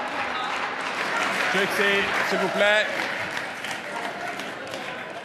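Applause breaks out during a parliamentary assembly session, a busy mass of claps filling the chamber while a voice briefly speaks over it.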